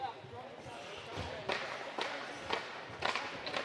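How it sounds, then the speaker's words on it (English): A hockey player claps his stick or hands, ticking off the final seconds of a penalty kill during a school ice hockey game: a steady run of sharp claps about every half second over the hollow rink ambience. "that sound is Royer clapping off the last seconds of the PK for the Blue Dogs"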